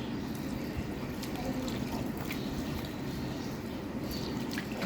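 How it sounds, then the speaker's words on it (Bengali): Water poured over small kachki fish mixed with onion, chili and spices for a hand-mixed curry, a steady close liquid splash and trickle running throughout. "এখন এখানে একটু পানি দিয়ে দিব যে মাছের সমান সমান পানি দিয়ে দিতে হবে"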